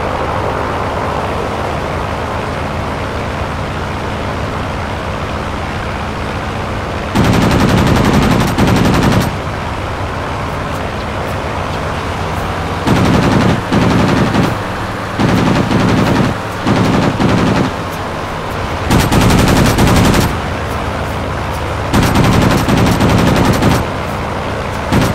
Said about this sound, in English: Weapons have overheated. Rate of fire is reduced.